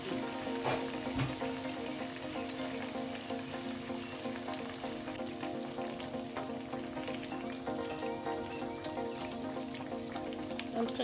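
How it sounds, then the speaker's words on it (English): Pancake batter frying in a pan over medium heat, a steady close sizzle and crackle with faint spattering pops, continuous and unbroken, with no talk over it. "So you're going to be frying on a medium heat."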